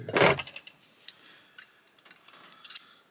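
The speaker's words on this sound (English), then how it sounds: "Cut the yarn with scissors that aren't very sharp for some reason." Dull scissors snip through crochet yarn, one louder close cut followed by a few faint, scattered clicks and snips in a quiet room.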